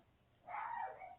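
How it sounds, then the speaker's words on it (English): A pet dog barks in a burst at a passing dog, a short, fairly close run of yaps and whimpering barks after a quiet start, with no talk over it. "Sorry if you hear my dog barking."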